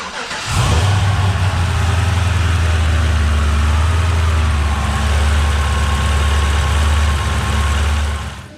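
A 2013 Cadillac CTS-V with a ported supercharger cranks and fires up, then settles into a loud, steady, rumbling idle that holds close and alone until near the end.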